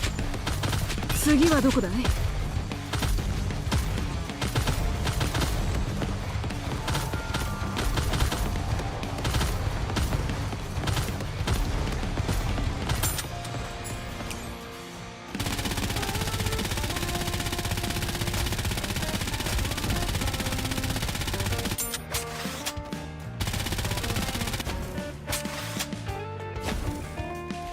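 Assault rifle gunfire in a Persona video game, long rapid bursts of shots under game music and Japanese voices, with a brief break midway before the firing resumes.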